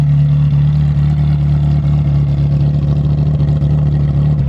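A Ferrari F355 with a fully straight-piped exhaust idles close by, giving a loud, steady, rumbling drone with a constant low hum that holds evenly throughout.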